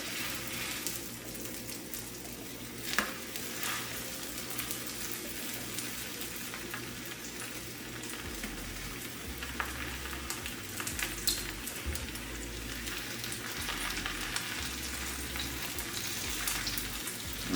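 Jalapeño popper tacos fry in a VEVOR deep fryer at 350 degrees, a steady, close crackling sizzle of hot oil that keeps up throughout with small pops and no voices.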